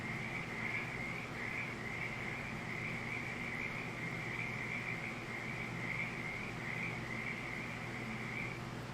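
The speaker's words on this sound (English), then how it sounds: "You can hear the water frogs and everything in the water that I put in." Frogs in a pond in the Farming Simulator 22 video game give a steady, faint, continuous croaking chorus, with a wavering, trilling tone that holds throughout alone.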